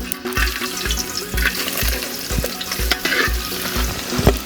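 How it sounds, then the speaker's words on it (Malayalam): Coconut pieces sizzle and crackle in hot coconut oil for a Kerala-style rabbit roast, with steady frying hiss and regular scraping stirs of a ladle against the pan, close and fairly loud. "എണ്ണ തിളച്ചിരിക്കുകയാണ്. ഇതിലേക്ക് നമുക്ക് തേങ്ങാക്കൊത്തിട്ട് കൊടുക്കാം."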